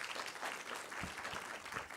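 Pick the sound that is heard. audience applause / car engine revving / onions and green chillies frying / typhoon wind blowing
audience applause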